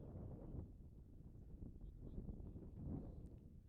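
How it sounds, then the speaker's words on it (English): Strong wind buffets the microphone at an outdoor high school baseball game, a constant low rumbling rush that stays fairly faint and steady with no talk over it. "I can't get over how windy it is. It's extremely windy."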